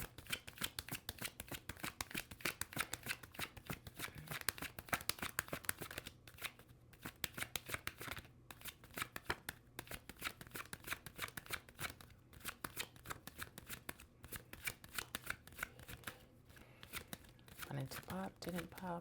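A deck of tarot cards is shuffled and cut, giving a steady riffling, crisp flutter that runs almost the whole time at close range, with a person talking over it.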